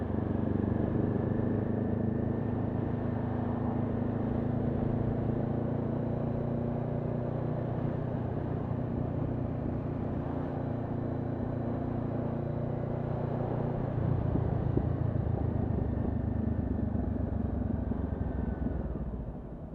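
Traffic rolling along the Embankment in London, a steady engine drone and road rumble heard from inside a vehicle, with a louder passing surge near the end and no one talking.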